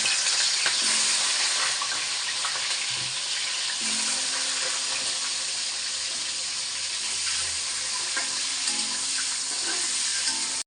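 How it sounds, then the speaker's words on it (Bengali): Banana pieces fry in hot oil, giving a bright, even sizzle that holds close and loud from start to finish, with a few soft scattered knocks and no voices. "তেল গরম দিছি কলাগুলি একটু ভাজিয়ে নেব"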